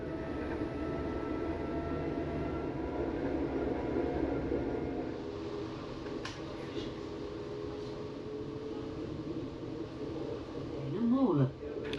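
A Belgian coastal tram, the Kusttram, runs along its rails with a steady low rumble and rolling wheel noise heard from on board, moderately quiet, with a squealing rise near the end and a voice talking over it.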